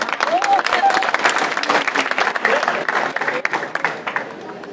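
A school crowd at a Hindi Diwas poetry gathering in 2016 claps for a poet in loose, uneven bursts, with voices talking over and around the clapping throughout.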